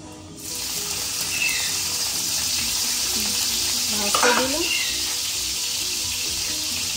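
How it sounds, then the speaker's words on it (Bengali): Oil sizzles and hisses steadily in a hot wok as bitter gourd fries, loud and close, with a few faint scraping stirs; no talking. "উচ্ছেটা ভাজতে দিলাম"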